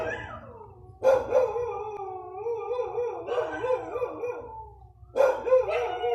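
A dog howls in long, wavering wails broken by sharp barks, loud and close indoors, with the outbursts starting again after brief pauses.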